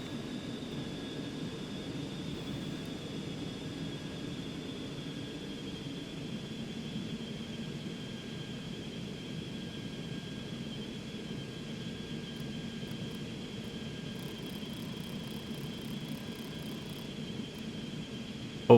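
The steady, faint whine and hum of the jet engines on a Cessna Citation Mustang in X-Plane 11 drones on unchanged in a long, continuous cockpit-like wash with no talking.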